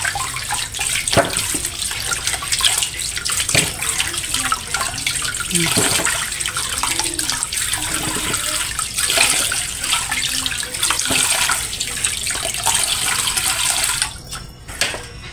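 Tap water runs steadily into a sink while peeled taro is washed, a continuous splashing flow with occasional knocks and handling noises, close and moderately loud throughout.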